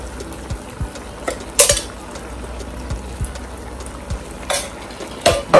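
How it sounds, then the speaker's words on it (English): Crushed tomato poured into a hot pot for a spinach and gboma stew with smoked turkey wings and stockfish, giving a steady frying sizzle with a few sharp spattering bursts and light clinks throughout. "I'm going to pour my tomato"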